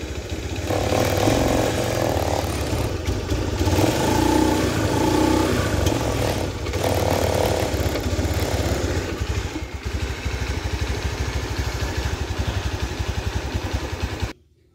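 Honda Beat FI scooter with a rough-sounding CVT revving hard and steadily for about fourteen seconds. The engine drone is loud and close, with no talk over it, and it cuts off abruptly at the end.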